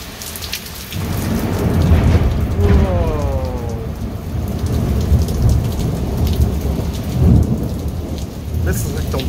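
Heavy thunderstorm with steady, loud rain pouring down and rolling thunder rumbling repeatedly throughout, lightning-heavy night storm heard close from indoors, with no talking.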